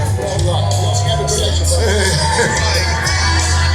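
A crowd aboard a party barge during the SEMA cruise yells and whoops in loud, overlapping bursts, with voices shouting close by over a steady low engine drone.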